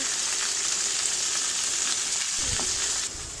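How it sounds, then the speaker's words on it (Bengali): Fish heads fry in hot mustard oil with a loud, steady sizzle and crackle that runs unbroken, easing slightly near the end. "তেল গরম হয়ে গেলে মাছের মাথাগুলো ভেজে নেব"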